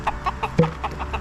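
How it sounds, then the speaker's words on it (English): Backyard chickens cluck in short, rapid bursts while being fed, several quick calls close by with one louder squawk in the middle. "I only feed the chickens that are in here"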